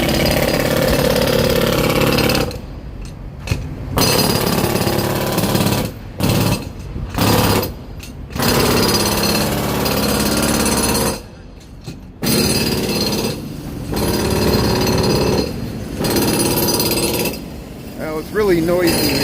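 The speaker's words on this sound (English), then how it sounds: "We got jackhammering going on here" A jackhammer pounds on the Michigan Avenue Bridge near Wacker Drive in downtown Chicago, loud close bursts of hammering broken by short pauses, with street noise and someone talking in between.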